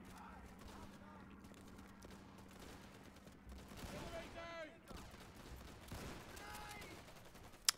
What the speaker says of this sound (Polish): Trochę mnie to denerwuje, że ciągły jest ostrzał